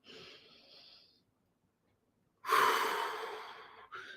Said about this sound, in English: Take another breath with me